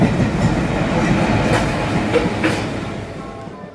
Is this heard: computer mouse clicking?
no